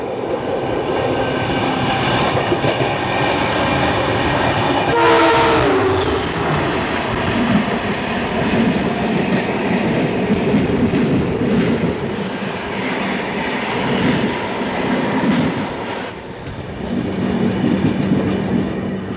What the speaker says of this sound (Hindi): और यहाँ पे हमारे ट्रेन की क्रॉसिंग हो रही है पुणे अमरावती एक्सप्रेस के साथ